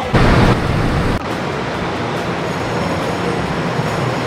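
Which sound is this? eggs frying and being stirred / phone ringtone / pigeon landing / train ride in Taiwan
train ride in Taiwan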